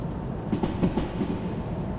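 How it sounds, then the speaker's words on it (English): A freight train coasts with the throttle released in the Derail Valley train simulator game, giving a steady low rumble of wheels on rails with soft rhythmic clickety-clack. "I'll just release the throttle and just let the train coast"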